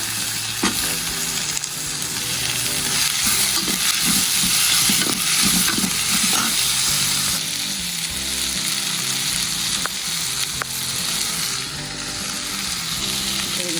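Tomatoes with ginger and garlic sizzle and hiss steadily in a hot pan, with occasional stirring scrapes throughout, close and continuous.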